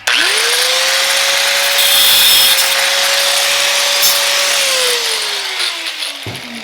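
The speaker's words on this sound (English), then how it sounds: "We got a little sander right here while we're using that." A small power sander cleans up a part during a Cub Cadet 582 pulling-tractor build, spinning up sharply into a loud, steady whine that holds for several seconds before winding down.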